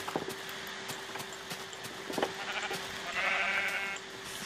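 Sheep bleating in the blocky sandbox game Minecraft: a few short, nasal bleats near the close, the longest and loudest arriving near the end over faint game ambience.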